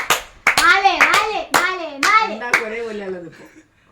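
Family members at home clap their hands in a steady beat of about two claps per second while a voice chants or sings over them, the claps sharp and close.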